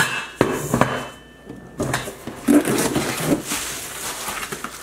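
Stainless steel pots and a lid from a Belgique cookware set handled up close, giving sharp metallic clanks and knocks at irregular intervals over a quiet background.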